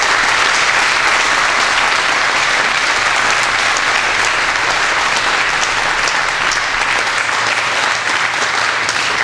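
An audience at an opening ceremony applauds after a speech, a dense, sustained and loud clapping from many hands that continues evenly throughout without speech over it.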